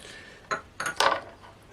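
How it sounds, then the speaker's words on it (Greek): A spoon clinks and scrapes against a metal pot while stirring sugar, water and lemon juice, three or four distinct close knocks in quick succession. "Θα ανακατέψω."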